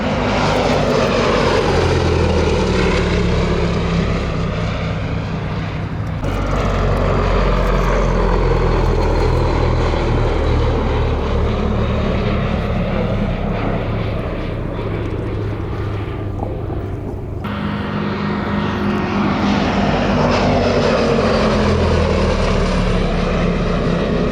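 The steady, loud drone of a Gloster Gladiator biplane's piston engine overhead at an airshow, rising and falling slightly as it passes, with no talk.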